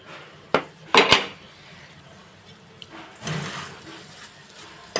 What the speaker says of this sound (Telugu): మూత పెట్టుకోవాలండి.